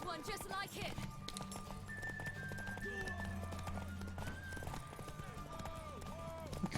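Horse in The Witcher 3 video game, hooves clip-clopping at a run with a brief whinny, mixed with game music and someone talking over the action.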